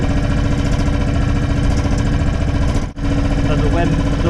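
A sailboat's engine runs just over idle while the boat moves at about three knots, making a loud, steady, close drone with a brief dip near the end.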